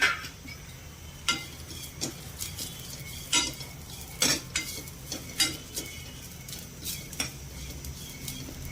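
Masala with sesame seeds roasting in a kadhai, with a soft sizzling bed broken by repeated metal spoon scrapes and stirring clinks at an irregular pace, close and moderately loud, with no talk.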